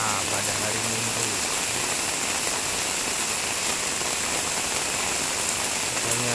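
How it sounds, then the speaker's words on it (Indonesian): Heavy rain pours down over Samarinda city as a dense, unbroken hiss that stays constant throughout. "Karet air sangat deras sekali"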